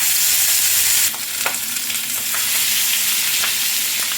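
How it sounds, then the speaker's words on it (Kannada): Fish fries in oil in a pan, a loud, constant sizzle with a few soft scraping touches from a utensil, with no talking over it. "ಇನ್ನು 2 ಕೂಡ ಫ್ರೈ ಮಾಡ್ತೀನಿ"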